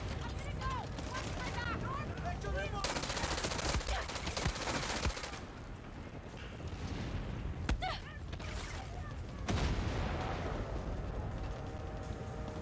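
Dense automatic gunfire and heavy explosive blasts in the shooter game Far Cry 6, loud and continuous with bursts overlapping and swelling throughout, a voice briefly heard amid the firefight.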